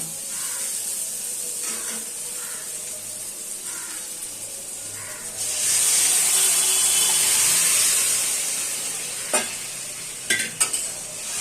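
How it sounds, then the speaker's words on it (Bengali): Dal poured into a spiced masala in a hot pan for dalma, a steady sizzle swelling into a loud hissing rush midway, then stirring and a few clinks of a spoon against the pan, no talk. "এবার আমি এর মধ্যে ডালটাকে ঢেলে দেব।"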